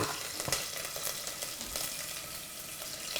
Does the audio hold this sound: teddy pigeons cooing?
no